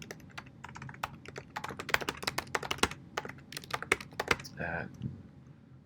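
Fingers type a message on a computer keyboard in quick, uneven bursts of sharp close clicks, a few louder key strikes among them, with soft speech faint underneath.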